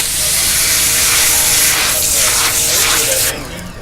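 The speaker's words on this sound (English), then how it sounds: "I just put the pressure washer inside the glove and sprayed it down" A Sun Joe pressure washer blasts water into a wash mitt for a car wash. It makes a loud, steady, close-up hissing spray that drops off abruptly near the end.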